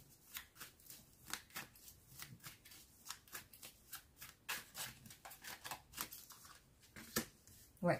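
Tarot cards being shuffled for a card draw make repeated soft riffling and slapping bursts in an irregular rhythm, close and fairly quiet throughout.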